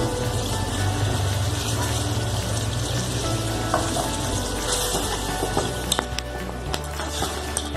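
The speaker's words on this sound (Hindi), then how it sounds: "थोड़ी देर के लिए इनको फ्राई कर लेंगे।" Potatoes with tamarind pulp and a little water sizzle and bubble in a pan over a medium-low flame, a close, continuous frying hiss broken by a few scattered clinks and stirring taps.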